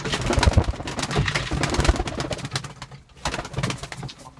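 Pigeons coo and flutter close by inside a pigeon coop being cleaned, a busy, continuous layer of soft throaty calls with rustling underneath, briefly dipping quieter near the end.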